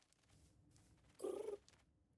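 A cat in a Minecraft modpack gives a short, soft purring rumble lasting under half a second, heard alone against quiet background noise.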